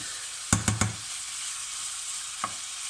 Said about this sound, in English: I've got our kind of tablespoon of oil here over a medium-high heat, and we're going to fry these off